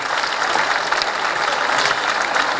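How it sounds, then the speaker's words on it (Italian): Applause from a concert audience at a Polizia di Stato band performance fills the space, a dense, steady patter of many hands clapping together, fairly loud and sustained with no talking over it. "Copriamo questo bel momento con un applauso"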